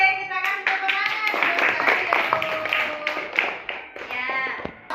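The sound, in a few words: class clapping hands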